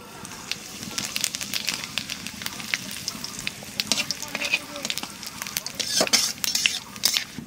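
Cumin seeds and bay leaves frying in hot oil for a Bengali chicken and potato curry, a close, busy sizzle with crackles and pops and occasional stirring, rising toward the end.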